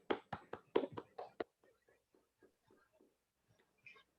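Clapping from a few attendees of an online authors' event, with a burst of claps in the first second and a half, then scattered, faint taps and claps trailing off.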